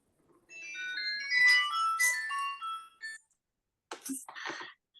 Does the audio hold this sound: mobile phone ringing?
yes